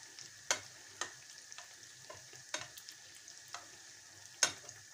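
Pişi dough frying in oil, a soft, steady sizzle punctuated by sharp spatula taps and clicks at irregular intervals, fairly quiet, with no one speaking.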